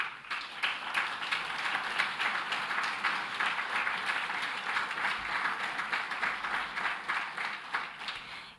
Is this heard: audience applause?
yes